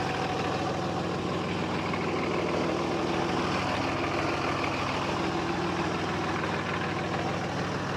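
A 2005 Dodge Ram Cummins diesel truck idles on a hill, giving a steady, low, rough rumble that stays even and moderately close throughout.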